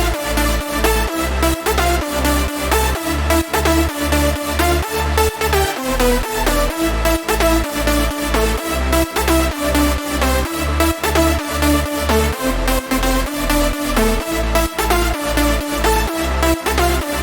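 Layered progressive house synth leads playing a loud, dense, continuous riff over a steady pumping bass pulse, with no voices.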